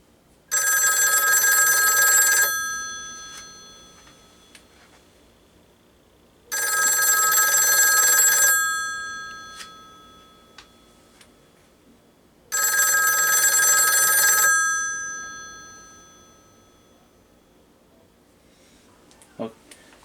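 A vintage 554 rotary dial telephone rings with its bell set on low, three evenly spaced two-second bursts of bright metallic ringing separated by quiet pauses, near and clear.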